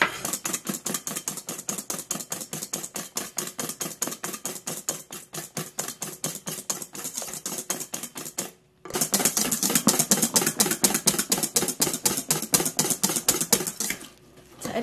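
A heavy commercial balloon whisk beats egg foam with sugar in a bowl for a rice-cooker cheesecake, fast, rhythmic clattering strokes close to the mic with one brief pause before the beating resumes.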